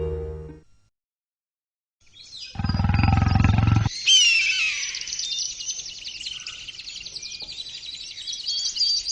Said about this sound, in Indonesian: Aku yakin itu singa atau harimau pemangsa manusia.